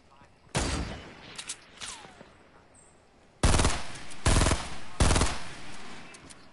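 Gunfire rings out in a Fortnite-style building shooter game on PS4 Pro: a burst, a few lighter shots, then three loud, heavy blasts close together near the end, with faint talk in the background.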